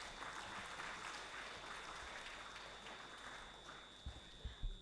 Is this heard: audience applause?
yes